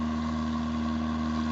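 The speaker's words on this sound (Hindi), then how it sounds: "ये हम इंजन स्टार्ट किया है पानी के लिए।" A water pump engine runs in a valley, a steady droning hum with a strong constant tone and no change in pitch, close and continuous.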